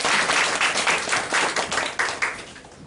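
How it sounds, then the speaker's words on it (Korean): An audience at a Korean church service applauds to welcome a speaker, loud sustained clapping from many hands in a rhythmic swell that tapers slightly toward the end. "박수로 환영하겠습니다."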